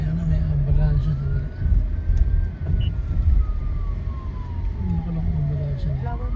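An ambulance siren wails through Los Angeles traffic, one long rising and falling sweep heard nearby over the hum of car engines, with a voice talking over part of it.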